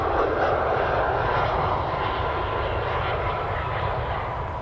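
An Air Canada Rouge Airbus A319 airliner at Toronto Pearson airport gives off a loud, steady engine roar that holds evenly and fades only slightly toward the end, with no voices.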